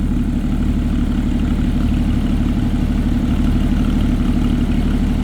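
A 2012 Porsche Cayman R idles with its exhaust valves open, producing a loud, steady low burble with a fast, even pulsing throb that holds without change, close up and alone.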